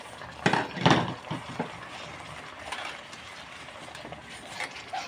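Utensil scraping and clinking against a cooking pot while food is stirred at home, a few clustered metallic strokes near the start then sparse faint scrapes over a quiet room.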